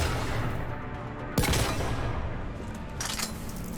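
Gunfire on Tuchanka in Mass Effect 3: steady rattling fire with two sharp, louder shots standing out, one early and one near the end.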